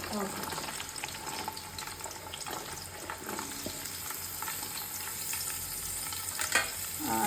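Onion, beans, green chillies, carrot and mint sauté for vegetable pulao, a steady soft sizzle with occasional stirring clicks and a brief clatter near the end.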